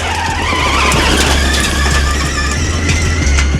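An Audi RS Q e-tron electric rally car launches from the start of a Dakar 2022 desert stage, giving a loud, steady whining electric drivetrain hum with gravel crunch and rising tonal whir.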